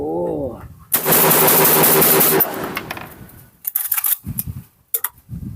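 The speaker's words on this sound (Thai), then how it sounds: "ยิงไป โหลดไป ยิงไปโหลดไป" Saiga shotgun fired repeatedly outdoors at a ceremonial shooting event, a rapid burst of loud cracking shots lasting over a second, followed by sparse mechanical clicks of reloading and brief speech.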